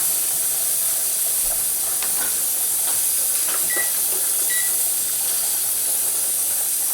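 Steady, loud steam hiss from a pressure canner, continuous and unbroken throughout.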